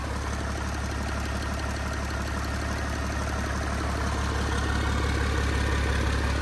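A Cummins L375 diesel engine runs on a test stand, idling with a steady, loud, even rumble and a continuous mechanical clatter. The sound holds at the same level throughout, with no voices.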